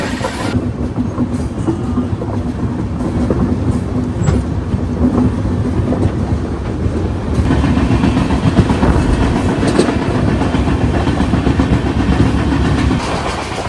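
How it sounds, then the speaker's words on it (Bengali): The 12868 Pondicherry–Howrah SF Express rolls along the rails in Andhra Pradesh near Tirupati, a loud, continuous rumble with rhythmic clickety-clack of wheels, heard up close from on board. "এখন ট্রেন ঢুকছে হচ্ছে তিরুপতি।"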